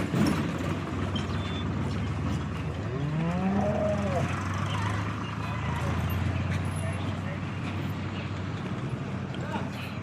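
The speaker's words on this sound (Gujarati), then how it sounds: "ગાભણમાં છે. ગાય પણ ખૂબ સારી છે." A cow on a farm gives one long, low, rising moo, with people talking nearby over a steady background hum.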